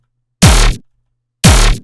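Two heavy dubstep bass hits with sub and bass lined up like a normal bass, each a loud, short, buzzing blast about a second apart, alone and up front.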